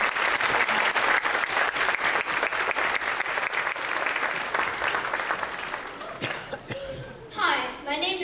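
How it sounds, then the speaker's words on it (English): Steady audience applause at a school concert, dense and even for about six seconds before tapering off, with a cough, throat clearing and brief voices rising as the clapping fades. "can we give them a round of applause?"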